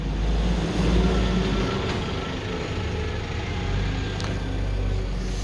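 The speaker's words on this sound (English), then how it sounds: "here comes this 53 to Cramlington." A Go North East number 53 bus to Cramlington pulls in, its engine a steady close rumble with a brief high hiss or squeal near the end, heard alone without talk.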